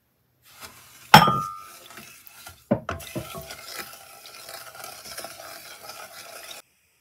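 A spoon stirs honey in a small pan, with a sharp metallic clink at the start followed by softer scraping and stirring strokes. The sounds are close and clear, with no voices.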